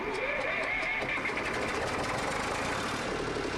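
A Zetor 3011 Major tractor engine in Farming Simulator 22 turns over and settles into a steady, rough diesel running drone, continuous and even throughout, with no speech.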